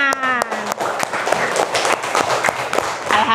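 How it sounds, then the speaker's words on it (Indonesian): A classroom audience of primary pupils claps together in a dense, steady burst of applause, close and loud throughout, with some voices mixed in. "Tepuk tangan."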